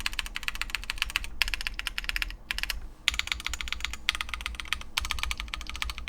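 Rapid typing on a Keychron Q1 Pro custom mechanical keyboard, a close, crisp stream of clacky keystrokes in bursts with short pauses between.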